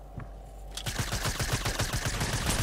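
Rapid automatic gunfire in a Fortnite Creative-style shooter game, a quick rhythmic burst of sharp shots starting after a brief pause and continuing steadily to the end.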